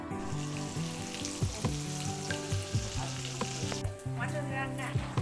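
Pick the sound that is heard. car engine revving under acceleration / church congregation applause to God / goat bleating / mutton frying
mutton frying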